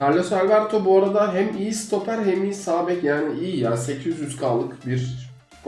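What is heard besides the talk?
No distinct noise like a dog, phone or traffic.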